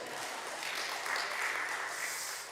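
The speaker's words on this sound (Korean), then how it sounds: "박수 한번 더 치겠습니다" A church congregation at an autumn evangelism festival in Korea gives a short burst of applause, a brief, moderately loud patter of many hands that swells and fades within a few seconds.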